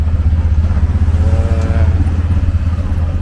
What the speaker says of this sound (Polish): Tuktuk przyjechał, właśnie jadę.